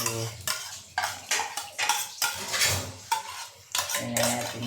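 Flour and baking soda being mixed in a bowl for pineapple bread, heard as rhythmic scraping and clinking strokes of a utensil against the bowl, close and repeated about a dozen times.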